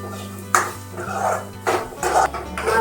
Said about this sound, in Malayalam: ഇളക്കി കൊടുക്കണം കരിഞ്ഞു പോകാൻ പാടില്ല നല്ലപോലെ ഇളക്കി കൊടുക്കണം